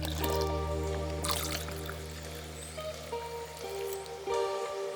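Remaining water pours into a pitcher of apple lemonade in a home kitchen, a steady trickling stream with soft splashes over a low background hum.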